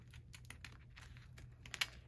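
Scissors snip along a perforated, three-hole-punched book page. The quiet, close crisp cuts and paper crinkles come in an irregular sequence, with one brighter snip near the end.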